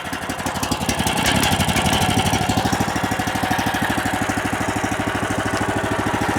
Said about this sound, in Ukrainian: Ось відразу хочу сказати, що по шуму бензин тихіше працює.